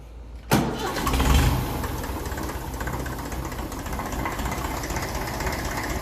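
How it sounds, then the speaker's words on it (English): A 1954 Ferguson TEF 20 diesel tractor engine cranks briefly and fires up, then settles into a steady, rough diesel idle that continues close and loud. "we'll knock her off and see how it starts."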